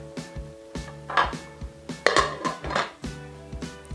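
A rice cooker lid is fitted on, giving a series of light metallic clanks and taps with a faint ringing tone, irregular and close by, with no talking.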